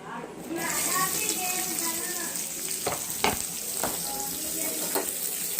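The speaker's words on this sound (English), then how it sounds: "Just stir fry it until the onion gets brown." Chopped onion stir-fries with cloves in a hot pan for mushroom masala, giving a steady close sizzle with occasional stirring scrapes and clinks throughout.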